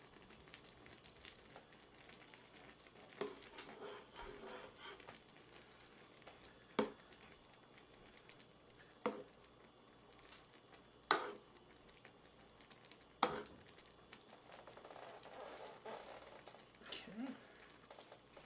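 Three-meat chili being stirred in an overfull deluxe-size skillet, a soft continuous sizzle with scattered sharp clicks and scrapes of the spoon against the pan, fairly faint and close.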